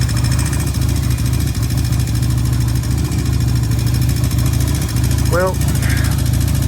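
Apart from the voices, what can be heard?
1994 Yamaha engine idling with valve tapping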